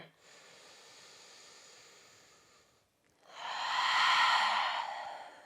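Slow yoga breaths, a soft nasal inhale followed by a louder, breathy exhale through the mouth, close and alone with no talking.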